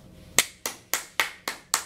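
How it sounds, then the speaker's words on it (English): Hands clap six times in a steady, evenly spaced rhythm. Each clap is sharp and close, with a short ringing tail, and no voices are heard. "clapping over here on the left"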